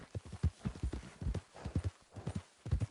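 Horse hooves clip-clop at a steady walking rhythm in Red Dead Redemption 2, close and distinct, each footfall a hollow knock in a continuous sequence with no talk over it.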